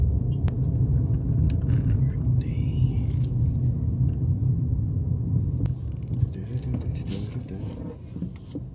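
Car interior on a road in America during a U-turn while looking for parking near a vulcanizing shop: a steady close engine and road rumble throughout, with faint creaks and a few soft mechanical knocks.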